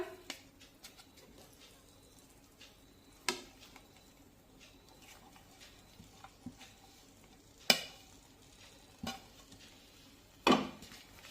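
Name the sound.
stirring fenugreek leaves into peas in tomato gravy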